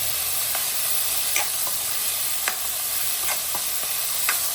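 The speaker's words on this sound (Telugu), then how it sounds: "ఇప్పుడు అన్నీ బాగా కలపండి." Ingredients are mixed in a sizzling pan, with a steady frying hiss and a handful of brief scraping stirs spaced irregularly, close and moderately loud.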